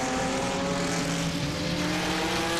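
A Corvette GT race car chases a Porsche 911 at VIR, its engine note a loud, steady, continuous roar with a sustained drone and no clear pass-by.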